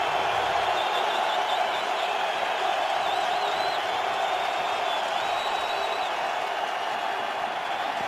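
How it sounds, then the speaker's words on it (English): A football stadium crowd at a St. Louis Rams vs. Arizona Cardinals game rises into a steady, distant roar of cheering, a continuous wash of noise with a faint whistle-like tone drifting through it. "So the crowd coming to life."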